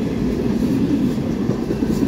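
Norfolk Southern mixed manifest freight train passing fast on track one, a loud close rumble of rolling railcars with steady wheel noise throughout, no talk.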